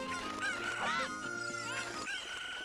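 Cucco chickens in the video game Zelda Ocarina of Time, clucking and squawking in quick overlapping calls with high pitched crowing cries, loud and close, with no talk.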